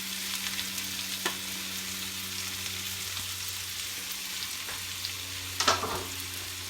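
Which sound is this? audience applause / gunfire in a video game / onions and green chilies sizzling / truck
onions and green chilies sizzling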